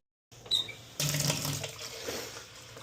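Water poured into grain to hydrate it for mushroom growing, a gushing stream starting abruptly, splashing loudly near the microphone for a couple of seconds before settling into a steadier flow.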